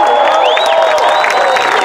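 A large crowd at the Warrior Games opening ceremony at West Point applauds and cheers in a dense, continuous wash, with whistles and whoops rising above it.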